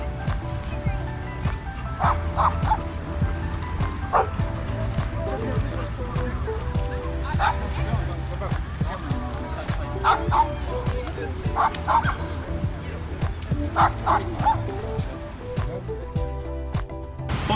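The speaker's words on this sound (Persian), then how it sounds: "سگا بدون قلاده آزاد و رها بدون هیچ مزاحمتی با همدیگه بازی میکنن" Off-leash dogs playing together in a park in Antalya, Turkey, bark and yip in scattered bursts over a steady background of outdoor noise and crowd babble, fairly close.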